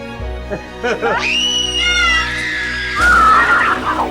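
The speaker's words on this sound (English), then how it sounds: "This would be a great scream. Ready? You count to 3." A group of people scream together on cue for a film, a loud sustained chorus of shrieking voices that swells, then breaks into a second rougher burst, heard close after brief voices counting in.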